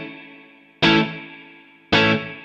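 Electric guitar plays short, muted chord strums in classic Motown rhythm style, two sharp bright strikes about a second apart, each decaying quickly, with effects coloring the tone and no voices.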